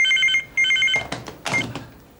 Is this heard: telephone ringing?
yes